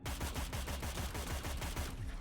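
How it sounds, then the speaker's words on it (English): Rapid gunfire in the video game Cyber Knights: Flashpoint, a fast rhythmic burst of shots repeating like automatic weapon fire, loud and steady throughout with no talking over it. "you're going to hear some gunfire"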